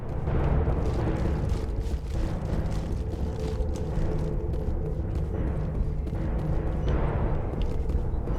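Grenade blasts in the sci-fi game Mass Effect come across as deep, rolling booms that merge into a sustained rumbling roar with a few heavier swells, loud and unbroken, with no voices.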